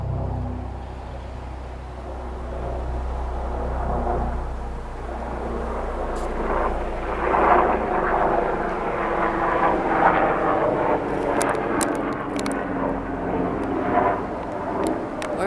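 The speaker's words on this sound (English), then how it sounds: "Oh, I hear like a helicopter." A helicopter flying overhead gives a loud, steady engine rumble that swells and lingers over about fifteen seconds, with faint speech in the background.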